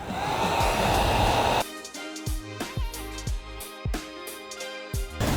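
A heat gun blows a steady hot-air roar while tint film is laid over a 2018–2021 Ford Expedition taillight, then cuts off, leaving a series of light taps and soft knocks on the lens.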